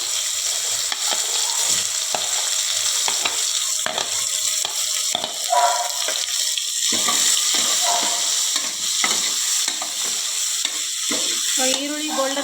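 Onions fry with spices in a pan for egg biryani, making a close, continuous sizzle with occasional stirring scrapes and small crackles.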